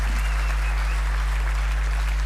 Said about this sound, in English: you deserve a round of applause from yourselves and me